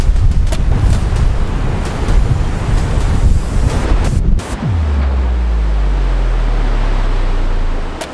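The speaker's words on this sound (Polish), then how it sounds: "jak widać, fale są coraz większe" Large waves surging loudly against the shore at a wild coastal walkway on Madeira, a steady broadband roar with wind buffeting the microphone, then a heavy crash and rumbling wash near the end.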